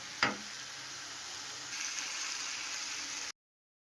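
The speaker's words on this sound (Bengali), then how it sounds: "এবার দিয়ে দেবো আলুগুলো বেশ খানিক্ষণ কষাবো তারপর জল ঢেলে দেবো" Potatoes sauté in a pan: a single clunk, then a soft, steady sizzling hiss that runs for about three seconds and cuts off abruptly.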